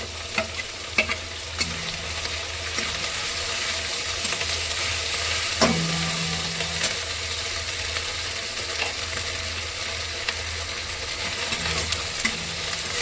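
Sliced onions with ginger-garlic paste sizzle steadily in a pan, a continuous close frying hiss broken by occasional scrapes and taps of a stirring spoon, with no voices.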